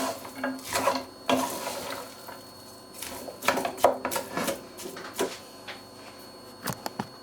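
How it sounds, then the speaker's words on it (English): Mince being stirred in a pan over low heat, with scattered scraping and knocking of the utensil against the pan in irregular bursts, fairly close and moderately loud, no talking. "make sure to give this a good stir, because you don't want it to stick to the bottom of the pan"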